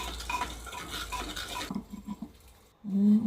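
A spoon stirs chopped tomato with curry leaves in a hot pan after tempering spices have crackled, giving a busy scraping and sizzling texture that gives way to softer, separate stirring strokes and a final louder scrape.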